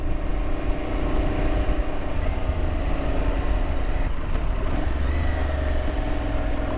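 Motorcycle riding through a town past old buildings, engine hum and wind noise steady and fairly close with slight swells in revs, no voices.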